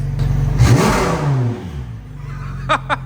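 A BMW M3 engine revs up nearby as the car is driven outside, a deep rising roar that peaks and settles into a lower rumble, followed by two short sharp squeaks.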